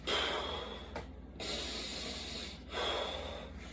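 A soccer coach demonstrates how players take a deep breath, with loud, close, airy inhales and exhales. Two or three forceful breaths are broken by brief pauses, and no speech is heard.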